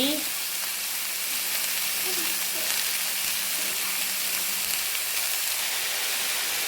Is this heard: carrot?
yes